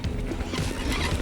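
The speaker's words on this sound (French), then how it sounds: "il y a un mec qui tient les chevaux en longe" A horse whinnies amid a dense rumble of wind and movement in a sandy forest, with a faint clatter of hooves in the background.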